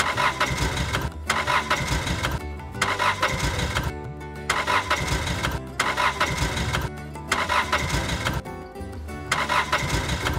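A car engine cranks and runs roughly in repeated bursts separated by brief gaps, with a loud, close, buzzy mechanical drone suggesting engine trouble; no talking.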